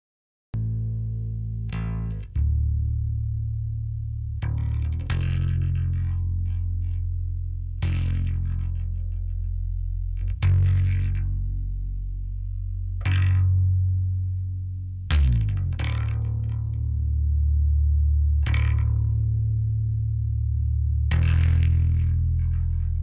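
Soloed audio track run through the Black Box saturation plugin, a thick distorted chorus-like tone struck in repeated swells about every two to three seconds, loud and alone with no talking.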